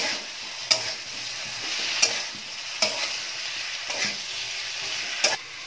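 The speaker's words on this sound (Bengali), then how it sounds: "এবার মশলার সাথে আলু পটলটা ভালো করে একটু নাড়াচাড়া করে নিচ্ছি।" Fried potatoes and pointed gourd get stirred into spice paste in a hot pan, with a spatula scraping in several distinct strokes over a steady sizzle, close and fairly loud, no voices.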